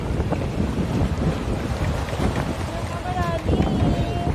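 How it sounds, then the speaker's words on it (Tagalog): Strong sea waves crash and churn near a rocky shore at Maragondon sanctuary, a loud continuous roar mixed with heavy wind buffeting the microphone. "So napakalakas ng alon."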